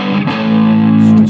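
Electric guitar through a Roland Blues Cube amp on its distortion channel, a loud sustained overdriven chord ringing with dense, buzzing harmonics for just over a second.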